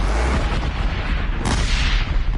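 A machine enemy in Horizon Zero Dawn sets off explosions: loud, booming, rumbling blasts that roll on continuously, with a sharper burst near the middle.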